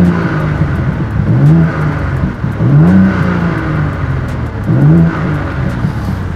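Six-cylinder engine of a 2023 BMW M2 G87 revving in several rising and falling pulls, strong and close, with a throaty drone between revs and no talk.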